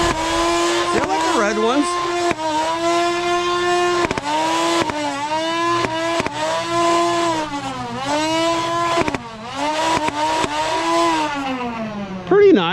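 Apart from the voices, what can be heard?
Nerf Rival Perses blaster firing headshot rounds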